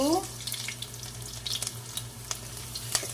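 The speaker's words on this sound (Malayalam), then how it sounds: "അതിലേക്ക് നമ്മൾ ആദ്യം കുറച്ച് കരിയാപ്പില ഇട്ടു വെളുത്തുള്ളി ഇട്ടു" Curry leaves and garlic sizzle in hot oil among popped mustard seeds in a pan, a continuous close crackling hiss with a few small sharper pops.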